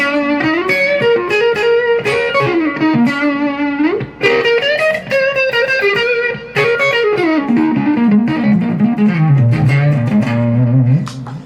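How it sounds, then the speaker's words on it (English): Electric guitar through a tweed combo amp model with a mild low-gain overdriven tone plays chords and single-note lines, loud and continuous with a short delay echo trailing the notes. "it's switched to a low gain overdriven amp sound"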